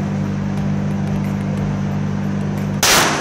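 A single sharp, loud gunshot rings out near the end at a firing range where a gun is shot at targets, following a few seconds of steady low hum and background noise.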